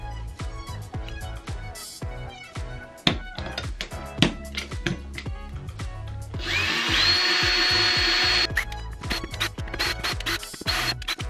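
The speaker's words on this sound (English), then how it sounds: "I'm just gonna drill through this part right here" A power drill bores through the plastic of a Nerf bow with scratchy, irregular grinding bursts and clicks, then a sustained high whirring run in the middle before more choppy scraping.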